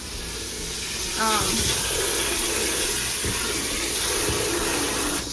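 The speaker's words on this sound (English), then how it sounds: "you want to cover your peas with water, just right up so you can see the water" Tap water runs steadily into a pot of peas set up for pressure canning, a continuous close splashing fill with a brief higher gurgle and a few soft knocks, no talking over it.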